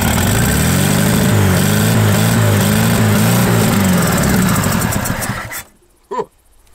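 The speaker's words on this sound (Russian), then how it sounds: "Жигули работает." A Zhiguli (Lada) car engine running after a year buried underground, loud rough idling with a steady pulsing drone, then cut off abruptly near the end, followed by a brief clunk.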